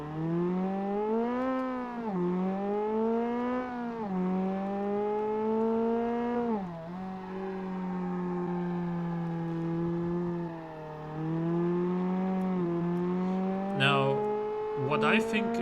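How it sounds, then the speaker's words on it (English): A 2004 Lotus Elise four-cylinder engine in the BeamNG.drive driving game drones loudly and steadily, its pitch rising and falling through repeated revs and gear changes, with a brief scrape or tire sound near the end. "It's fairly loud for a 4-cylinder."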